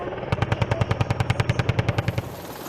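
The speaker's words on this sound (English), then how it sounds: "attack helicopter crews are frequently tasked with conducting live fire exercises" A rapid, steady burst of heavy automatic gunfire from an attack helicopter, about twenty evenly spaced loud shots, ending abruptly with a faint mechanical whine lingering.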